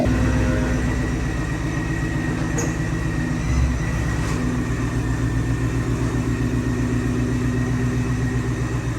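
Boosted 2015-2023 Ford Mustang GT S550 V8 idling close by, a steady deep low rumble with even pulsing that holds for the whole stretch, loud and unbroken, with no voices over it.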